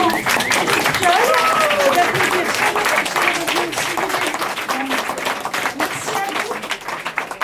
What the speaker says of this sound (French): je vous propose d'applaudir chaleureusement Nicole